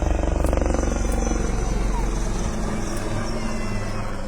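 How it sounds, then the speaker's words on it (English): An armed attack helicopter's rotor thumps rapidly and steadily during a strafing run and combat maneuvers at a military tattoo in Kolkata, a loud pulsing chop with engine whine, sounding close. "carrying out an armed helicopter strafing run and combat maneuvers"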